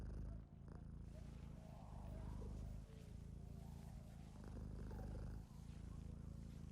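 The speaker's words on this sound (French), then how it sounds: "lorsque vous vous rapprochez de l'un des 3 emplacements, vous l'entendrez ronronner car il dort." A sleeping cat purrs in the Black Ops 7 Zombies video game on the Kowakujō map: a steady, close, low rumbling purr running continuously, with faint game ambience underneath and brief dips at a few points.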